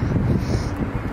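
Wind buffets the microphone in a steady low rumble, with no voices.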